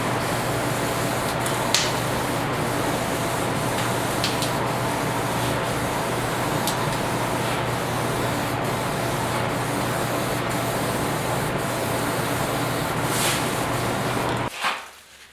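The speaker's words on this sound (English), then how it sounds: "We get a little bit of guide coat on there." Guide coat is sprayed onto body filler on a 1969 Ford Bronco's quarter panels in a continuous close hiss with a few faint clicks, cutting off abruptly near the end.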